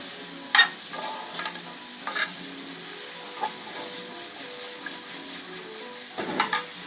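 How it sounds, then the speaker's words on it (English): Carrot, broccoli and string beans with garlic sizzle steadily in a hot pan, with occasional stirring clatters and scrapes over a constant frying hiss. "string bean, broccoli with garlic. I fry them."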